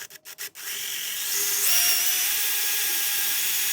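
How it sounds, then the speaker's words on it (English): Power drill boring holes with a 7/32 bit into a marine outdrive lower unit bearing carrier on an Alpha Bravo unit, a few short bursts then a steady, loud whine that rises in pitch and holds, close up with no talking. "I stepped it up to a 7/32 drill bit. I'm going to make each of these holes larger"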